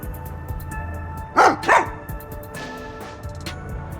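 Sugar, a dog in the video game Rain Code, lets out two quick, loud barks close by over steady background music, followed by fainter game sounds.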